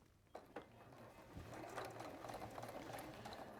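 A sewing machine runs a line of understitching along the facing of a dress, a couple of soft clicks, then a steady close motor hum with rapid needle ticking, fairly quiet.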